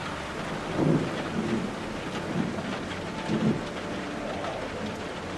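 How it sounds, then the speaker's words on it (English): Steady rain with rolling rumbles of thunder in the sci-fi video game The Alters, a constant wash of downpour broken by two or three low, swelling thunder rolls, no voices. "Rain sounds good."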